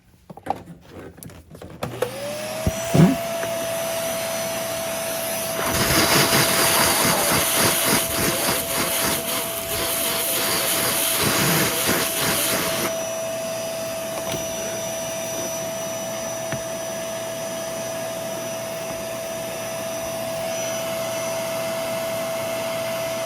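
Eureka PowerSpeed bagless upright vacuum cleaner with a clogged, low-suction fault starting up with a rising whine, then running as a steady motor drone with a burst of rattling debris in the middle, alone and close.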